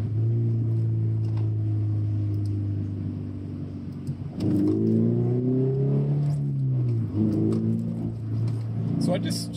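A Subaru car engine hums steadily while driving, then its pitch drops and shifts around the four-second mark as the gear changes, followed by a rising drone; the engine sits in the foreground of the cabin sound.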